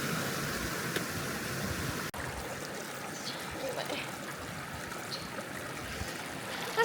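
A waterfall on the Isle of Arran, Scotland, roars as a steady, dense rush of falling water heard close by, with no breaks and no voices.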